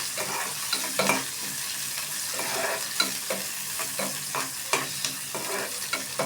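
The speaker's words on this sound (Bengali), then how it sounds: "ভালোভাবে নাড়তে থাকবো।" Onions for a radish chutney with egg are stirred as they fry in a pan, a continuous sizzle broken by repeated scraping strokes of the spoon at an irregular rhythm.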